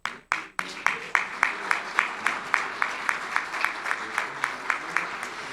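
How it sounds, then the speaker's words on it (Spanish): Rhythmic clapping from a church congregation at a Sunday service, a few hard opening claps and then a steady, even beat of many hands clapping in unison, moderately close. "¿Le podemos dar un aplauso?"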